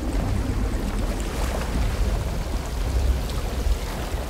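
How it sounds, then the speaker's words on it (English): Water pours steadily into the holed hull of a ship in a video game, a dense, continuous rushing wash with low rumble and no talk over it. "I hear water. Oh, we got holes, alright."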